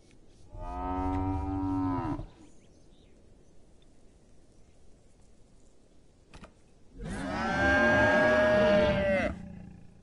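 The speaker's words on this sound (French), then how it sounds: "C'est vraiment une vache." Two long, loud cow moos, one near the start and one near the end, separated by a quiet gap filled with a low background hiss.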